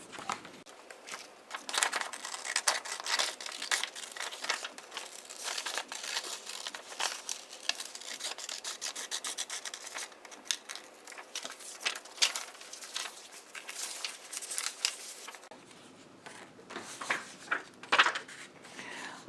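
Close, steady scissor snips and crinkling paper as patterned paper is cut out for a small embellished composition book, a busy continuous rustle with quick cutting strokes throughout.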